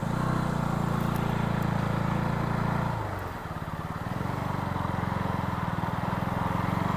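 A steady engine drone, likely a Thar vehicle, passes on a forest road near Kurangani, holding constant with a brief dip midway. No one speaks over it.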